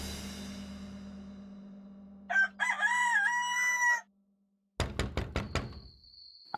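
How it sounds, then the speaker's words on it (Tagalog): A rooster lets out one long, loud crow in an otherwise quiet setting, followed after a short pause by a quick run of sharp, hard knocks. "Walang maririnig kung hindi ang tilaok ng manok."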